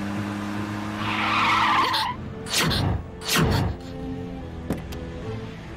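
A car skids to an abrupt stop, with two loud, sharp tire-squeal bursts close by over a low engine hum and background street noise.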